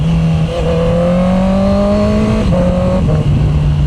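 Honda CB650R E-Clutch motorcycle with stock exhaust downshifting, its engine note rising and dropping through gear changes with blips between shifts, loud and close, no talking.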